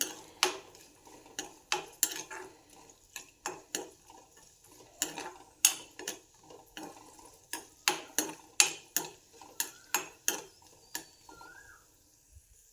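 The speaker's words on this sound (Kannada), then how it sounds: "ಗ್ಯಾಸ್ ಸಿಮ್ಮಲ್ಲೇ ಇಟ್ಟು ಫ್ರೈ ಮಾಡಿ ಡ್ರೈ ಫ್ರೂಟ್ಸ್ ಎಲ್ಲ" Dry fruits fried on a low gas flame for vermicelli payasam, heard as a steady run of sharp ladle taps and scrapes against the pan, fairly regular and close, with little audible sizzle.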